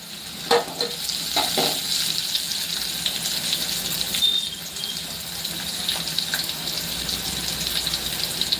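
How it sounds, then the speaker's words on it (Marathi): Onion sautéing in a pan until it turns reddish produces a loud, even sizzle up close, with occasional sharp crackles and stirring sounds throughout. "आपण कांदा थोडासा हलका लालसर होईपर्यंत आपल्याला कलर चेंज होईपर्यंत थोडासा परतून घ्यायचा आहे"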